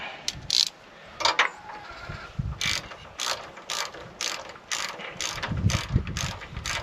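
A hand ratchet clicks in quick, regular bursts while tightening a spark plug on a Briggs flathead engine, loud and close with brief pauses between strokes.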